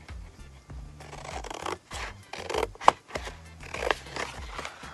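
Scissors cutting paper and card, a series of close, crisp snips and rustling slides in an irregular rhythm, with a sharp click partway through.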